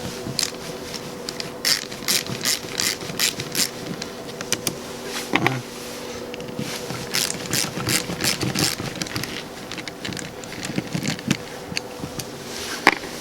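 Clicking and whirring tool work on a Nissan 350Z Roadster while its window motor screws are removed, with short bursts of ratcheting and metallic taps close by over a low background hum.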